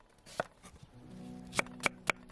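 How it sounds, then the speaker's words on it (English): A knife chops carrots and other vegetables coarsely on a board for a fish stock, giving a handful of sharp, close chops, one early and then four spaced evenly toward the end, over a low hum. "So for the stock, cut the vegetables up coarsely."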